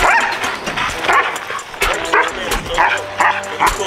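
A bully-breed dog barks and yips repeatedly during a spring pole workout on a resistance band, sharp close barks in an uneven rhythm with some whimpering, under light background talk.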